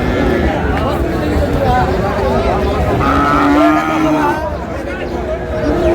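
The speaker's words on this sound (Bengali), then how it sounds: "কেমন দামে শাহিওয়াল জাতের ষাঁড় বাছুর গরুগুলো বাচ্চা কেনা হচ্ছে" Sahiwal bull calves at a cattle market low and close, repeated moos rising over a steady hubbub of crowd chatter and background voices.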